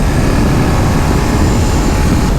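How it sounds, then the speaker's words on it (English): A 2021 BMW R18 First Edition cruiser with an 1800cc engine runs steadily in sixth gear, a loud, continuous, dense rumble mixed with wind roar and no talking. "6th gear right now. There's not that much engine braking, but that's because it's a cruiser."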